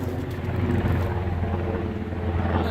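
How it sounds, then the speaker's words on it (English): A military helicopter passing overhead near an Air Force base, heard as a steady, low, rumbling drone that stays fairly loud and continuous outdoors throughout. "as a helicopter goes overhead, I don't know if you can hear that or not"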